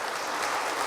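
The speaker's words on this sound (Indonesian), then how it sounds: "Boleh diberi tepuk tangan Bapak Ibu untuk di atas 8 ini" Audience applause after a call to clap at an Indonesian business talk, a brief dense patter of many hands filling the room, steady and fairly loud with no voices over it.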